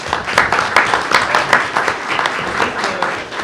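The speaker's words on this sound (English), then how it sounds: "Give them another round of applause." Audience applause at a school board meeting, a steady patter of many hands clapping at moderate level throughout.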